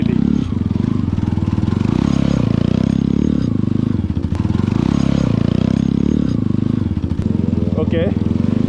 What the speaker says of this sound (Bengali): Okay, one hand basic circle wheelie.